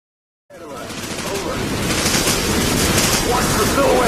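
Gunfire from a firefight in an action shooter game erupts suddenly out of silence and builds into a dense, continuous roar of rapid shots that holds loud to the end.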